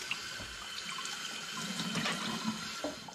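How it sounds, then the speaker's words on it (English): Glass bottles rinsed under a running tap, a steady rush of water splashing into a sink with small gurgles and clinks, close and without speech. "So the next step is just to rinse my bottles"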